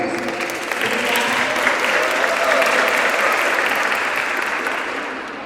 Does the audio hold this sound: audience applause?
yes